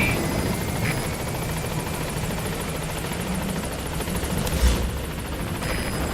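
The B-Quad support helicopter in Metal Gear Solid V approaches the landing zone, its rotor making a steady, loud, chopping drone with a faint mechanical whine throughout.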